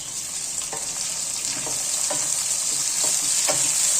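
Green chilies and chopped tomatoes fry in a hot pan for a pulao, a loud steady sizzle with regular scraping stirs about every half second.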